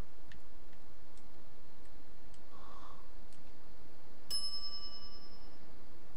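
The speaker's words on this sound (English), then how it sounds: "some idiot's already ringing that stupid bell" A service desk bell in The Secret of Monkey Island game rings once with a sharp bright ding and a ringing tail, after faint ticking in a quiet room.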